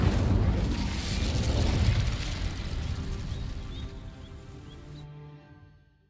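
An Incendio fire spell cast in Hogwarts Legacy bursts into a loud, roaring whoosh of flame that crackles and rumbles, then gradually fades over several seconds before cutting off to near silence.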